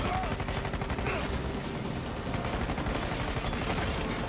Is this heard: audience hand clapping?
no